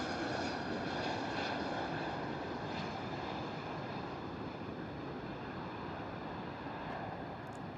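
A Ryanair Boeing 737 comes in to land at Bristol Airport in wet, stormy weather, a steady broad roar of jet engines mixed with wind and rain noise, loud and constant throughout with no voices.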